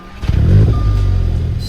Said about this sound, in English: The Audi S5 is a 6-cylinder car, but why does it sound like a 4-cylinder?